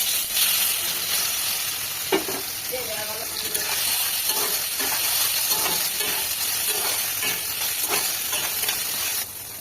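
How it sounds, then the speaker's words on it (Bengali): Drained soybean chunks frying in hot oil, a steady close sizzle and hiss with occasional stirring scrapes and pops throughout. "এবার জল ঝরানো যে সোয়াবিনগুলো দিয়ে দেবো"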